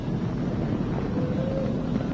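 Falcon 9 rocket engines during a crewed launch ascent with Dragon, heard as a steady, distant, low roaring rumble with a windy, noisy texture and no talk.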